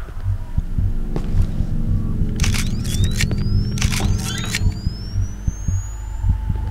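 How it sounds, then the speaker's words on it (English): Heartbeat sound effect from the horror video game Cry of Fear, a steady low throbbing pulse that speeds up, running under dense game ambience with bursts of sharp high-pitched noises. "heartbeats again faster."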